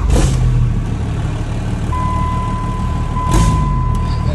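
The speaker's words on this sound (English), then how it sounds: "Let's turn the old girl on. You can hear the lifty pump." A truck's fuel lift pump runs at startup, a steady thin whine that starts partway through and holds over a loud, constant engine and road rumble.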